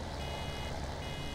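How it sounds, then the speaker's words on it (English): Steady vehicle reversing beeps in Farming Simulator 17, a continuous electronic tone pattern over low engine rumble, fairly quiet and unbroken. "this thing's beeping at me"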